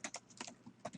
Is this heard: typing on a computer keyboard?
yes